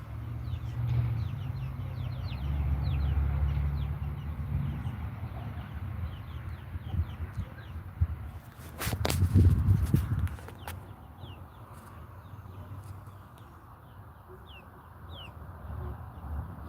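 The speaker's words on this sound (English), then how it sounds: "Just watching the little chickies run around." Little chicks scurry around and cluck near a live-streaming camera, with soft clucks and pattering steps running steadily throughout and a brief louder flurry of movement partway through.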